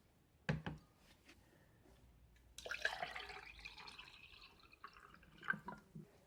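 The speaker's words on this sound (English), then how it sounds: "I've added approximately 375 mils of water." Water poured into an Australian military ration meal pouch: a sharp drip at first, then a few seconds of splashing, gurgling liquid filling the bag, with a louder slosh near the end, close and quiet overall.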